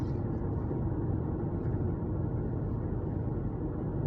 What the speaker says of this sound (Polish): No słychać szum powietrza